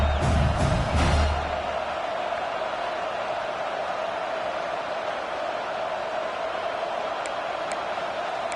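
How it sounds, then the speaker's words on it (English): A home crowd at a college football game at Williams-Brice Stadium roars on third down, a loud swell at first that settles into a sustained distant wash of cheering noise. "how nice is it to have the home crowd going absolutely bananas?"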